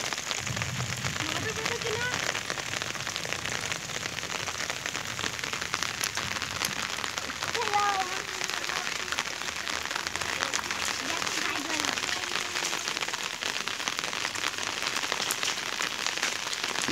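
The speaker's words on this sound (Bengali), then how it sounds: "প্রচুর বৃষ্টি হচ্ছে।" Heavy rain falling on a village road beside a canal and paddy fields, a steady close patter across the whole stretch, with faint bits of background sound.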